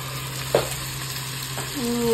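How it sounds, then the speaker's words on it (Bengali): Meat sizzles in hot oil, with a brief clatter of stirring and a steady frying hiss throughout, no voices. "মাংস ভাজা।"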